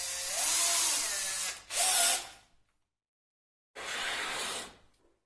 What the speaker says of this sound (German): Jetzt kommt als erstes einmal auch der Akkuschrauber zum Einsatz.